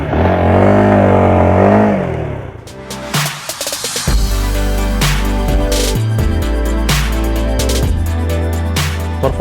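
A Honda Supra GTR 150 underbone motorcycle, sharing the CB150R's engine, is ridden on a test ride. Its engine revs loudly and rises in pitch, dips briefly during gear changes, then pulls hard again through repeated accelerations, close and without speech.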